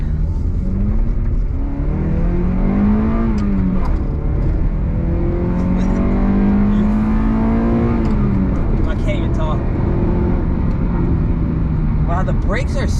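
Honda car engine revving hard into VTEC while driving, a steady loud rising drone with climbing harmonic sweeps from inside the cabin, continuous throughout with a voice briefly heard over it.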